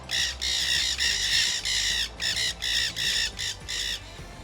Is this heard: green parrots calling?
yes